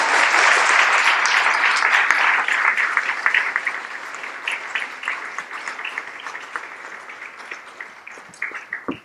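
Sustained applause from a large crowd at a political speech by Anurag Thakur, loud and dense at first, gradually thinning and tapering over about nine seconds.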